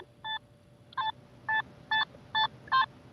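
A metal detector sweeping over a dime gives six short, evenly spaced beeping tones in a steady rhythm, each with a split double-signal character, clear and close with no talking.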